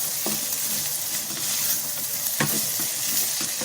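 Chicken fried rice sizzles steadily in a hot pan as red chili sauce is stirred through it, with a few sharper spatula scrapes standing out from the constant frying hiss. No one talks.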